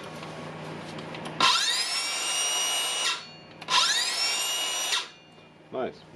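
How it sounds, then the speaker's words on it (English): A repaired Makita DSS610 18V LXT cordless circular saw, fixed after a burned terminal, spinning up twice with a rising whine that holds steady, then winding down, loud and close, followed by a brief third blip. "Now it's spinning, so we can turn it on."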